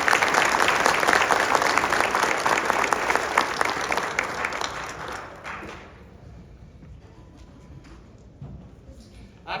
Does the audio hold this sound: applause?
yes